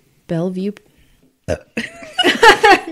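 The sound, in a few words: burp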